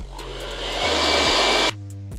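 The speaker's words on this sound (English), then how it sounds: "I'm gonna take my blow dryer again and I'm going to blow dry like over my lace." A handheld blow dryer runs steadily and loud over the lace of a glueless 360 lace wig, its broadband airflow roar shifting slightly in pitch as the speed setting changes, with no talking.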